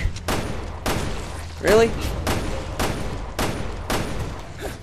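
Gunfire in the video game Resident Evil Revelations 2 cracks out in about six loud, evenly spaced shots, with a brief spoken exclamation in the middle.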